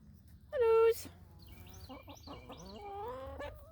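Chickens cluck and squawk close by, one sharp loud call followed by a run of softer, overlapping clucks.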